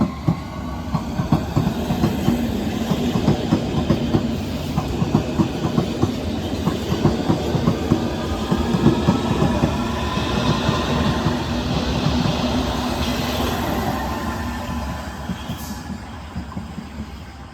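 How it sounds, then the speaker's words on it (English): London Underground Hammersmith & City line train pulling out of Barking station, a steady rumble with rhythmic wheel clicks on the rails, moderately loud and fairly close, fading slightly toward the end. "Departing now is the Hammersmith City line service to Hammersmith."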